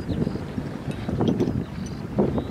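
Steady wind rushes and buffets the microphone during a paragliding flight, with low gusty roaring swells that rise and fall throughout and no voices.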